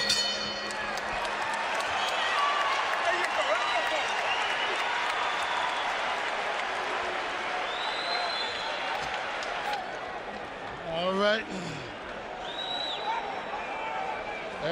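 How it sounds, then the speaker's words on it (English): A boxing arena crowd roars steadily through the Hopkins vs. Kovalev fight in 2014, a dense, loud, continuous cheer with scattered shouts rising after a knockdown, while a commentator talks over it. "Crowd is into it now."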